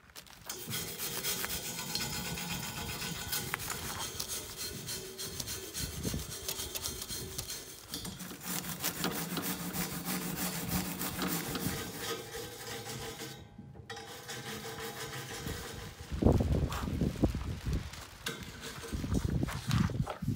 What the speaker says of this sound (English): Just a quick pass over the corner welding here with this wire brush.